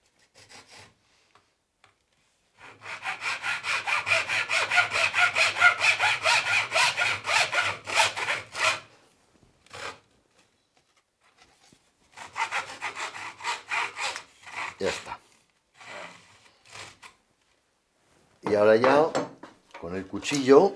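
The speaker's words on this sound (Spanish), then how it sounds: "vamos a cortar de aquí a aquí y de aquí a aquí para quitar este trozo de caña" A hand saw cuts through a piece of cane while a traditional cane musical instrument is being made, with a long steady stretch of rasping back-and-forth strokes followed by shorter bursts of sawing after pauses.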